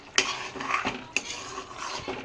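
A spoon stirs drumstick masala curry with boiled eggs in a cooking pot, giving close metallic clinks and scrapes in an uneven rhythm of a few strokes over the brief moment.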